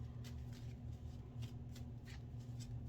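Tarot cards from a large spiritual deck being shuffled by hand, a series of soft riffling flicks in an uneven rhythm, quiet and close over a steady low hum.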